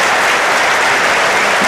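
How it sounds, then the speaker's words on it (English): Dense, loud applause from a convention audience at an annual meeting, continuous clapping filling the whole short stretch. "So please give them a round of applause."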